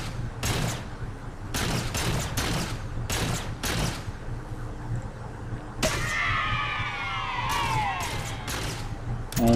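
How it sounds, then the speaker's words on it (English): Gunfire in the Halo 4 campaign on Mythic difficulty as a player picks off shielded Jackals: repeated bursts of sharp shots in clusters, with alien screeches and a whistling energy sweep in the latter half. "you can actually shoot over their shields and headshot them"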